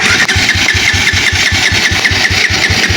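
NS motorcycle engine cranking repeatedly as it runs out of petrol, a fast, steady mechanical chugging with a whirring starter, loud and close, no voices.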